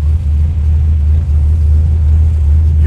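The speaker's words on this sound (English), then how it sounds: "Just listening to the idle and the feel of the whole car" Ford XW GT V8 idling steadily with a deep, continuous low rumble, loud and close, alone with no talk, at Summernats 35.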